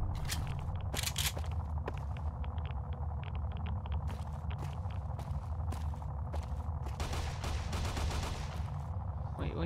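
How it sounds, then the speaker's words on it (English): Gunfire from shooting in Fallout: New Vegas: a steady run of sharp shots, some in quick clusters, over a constant low game background hum, with a rapid rattling burst toward the end. "Shooting it."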